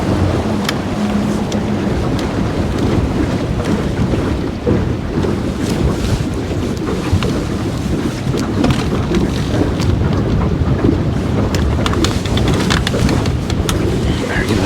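Steady, blustery wind buffeting the microphone on a creek during a fishing outing, a loud continuous roar with gusty rumble and no clear speech over it.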